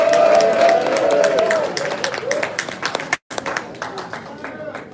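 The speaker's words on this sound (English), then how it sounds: "Thank you for that small smattering of applause." Light, scattered applause from a small crowd at a hip-hop museum induction ceremony, with sparse claps and some cheering and crowd noise, briefly cut off before resuming more thinly.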